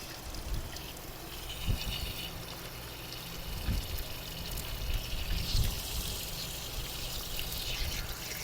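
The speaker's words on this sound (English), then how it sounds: "So this should be filling up the hot water heater here until we see some water coming out of" Water runs steadily into an RV hot water heater tank as it fills, a continuous broadband rush and trickle at moderate level with no talk over it.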